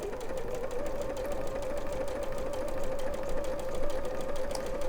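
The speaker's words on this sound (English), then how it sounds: "the sewing machine that Susie's using, the Elna 570A" An Elna 570A sewing machine stitches quilt pieces in a steady, continuous whir with a constant motor hum, running close and unbroken without talk.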